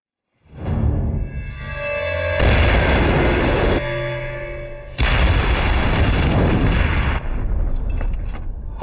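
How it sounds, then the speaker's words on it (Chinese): A loud, close explosion in a war film: the south building blows up and catches fire. A booming blast is followed by sustained rumbling roar, with a second heavy burst partway through and no voices. "南楼发生爆炸， 起火了。"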